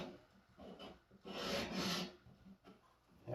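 Scissors rasp against an old-school Twice As Sharp sharpener, pushing the burr over in a few close, gritty strokes with brief pauses between them.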